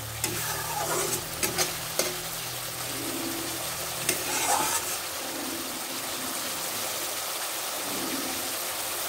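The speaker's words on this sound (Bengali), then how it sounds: "মশলাটা আর একটু ভাজা হয়ে আসলে এবার দিয়ে দেব টমেটো পেস্ট" Spice paste fries in a pan for a Bengali fish curry with potatoes, a soft continuous sizzle broken by a few sharp scraping stirs, fairly quiet and close.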